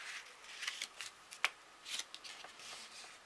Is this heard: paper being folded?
yes